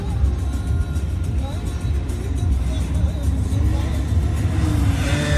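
A heavy truck passes a car on a highway, its low rumble swelling steadily under continuous road and cabin noise.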